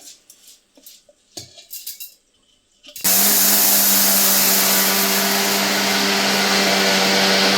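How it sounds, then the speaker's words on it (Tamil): After a few faint clinks and taps, a mixer grinder grinding millet roars to life and runs loud and steady at high speed, whirring continuously to the end. "இப்போ நம்ம இதை வந்து மிக்ஸி ஜாரில் சேர்த்துக்கலாம், குறைப்பாக அரைச்சி எடுத்துக்கலாம்."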